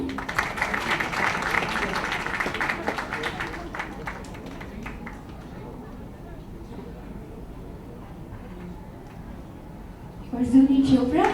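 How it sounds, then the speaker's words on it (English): A crowd at a book launch claps briskly for several seconds, and the applause gradually fades to a quiet room murmur. A voice comes in at the very end. "please clap everyone."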